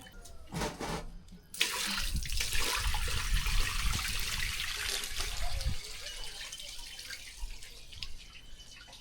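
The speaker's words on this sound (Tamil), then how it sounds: "மூணு நாலு டைம் வந்து இந்த மாதிரி நல்லா கழுவிடணும்" Wheat grains are washed in water, sloshing and pouring close by in a steady, rushing stream after a few brief splashes at the start.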